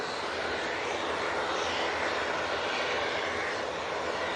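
An airliner departs from Manchester Airport, its engines giving a steady, loud, broadband roar that holds evenly for the whole stretch with no voices over it.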